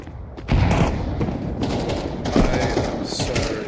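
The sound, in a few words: thrown grenade exploding in the video game Counter-Strike 2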